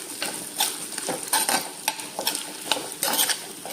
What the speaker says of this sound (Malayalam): നമുക്ക് നല്ലോണം മിക്സ് ചെയ്യാം.